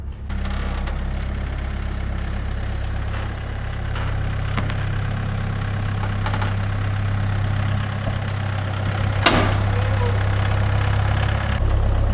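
A heavy loader tractor engine runs steadily nearby with a deep, constant rumble, while faint clanks and knocks sound occasionally over it, during a corn stalk harvest.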